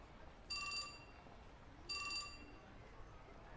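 A mobile phone chimes with an email notification in a visual novel game, sounding two short, bright electronic ringtone bursts about a second and a half apart over a quiet background.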